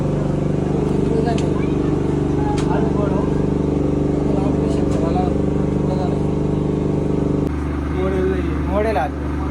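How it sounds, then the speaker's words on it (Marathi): A generator runs at a hospital, a loud, steady low hum and drone that fills the whole stretch with a slight change in tone near the end, while faint voices and movement come through beneath it. "इथे जनरेटर चालू म्हणून तुम्हाला आवाज कमी येत असेल"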